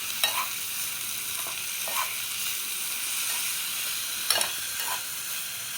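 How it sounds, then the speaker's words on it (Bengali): Chopped tomatoes with salt frying in a pan, a steady soft sizzle throughout with a few sharp stirring scrapes of the spatula spaced across the clip, no voices. "তারপরে দিয়ে দেব আমরা টমেটো কুচি। তারপর আমরা হালকা করে ফ্রাই করে নেব।"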